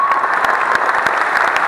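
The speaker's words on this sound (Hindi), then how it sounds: "सर इसका ना एक बार तालियां हो जाए इस बात के ऊपर" A hall audience at a Patna teachers' meet-up breaks into loud, dense applause, many hands clapping together in a continuous close wash for the whole stretch.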